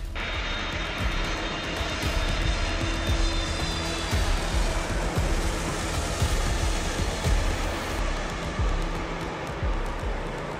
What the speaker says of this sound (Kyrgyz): Бул эмне самолет десеңиз, килтейген Boeing 767-200 VIP.